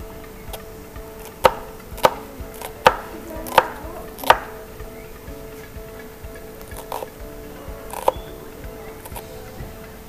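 Knife chopping an onion on a cutting board in a kitchen, a handful of sharp, close taps spaced about a second apart, then quieter scattered cuts over a low background hum.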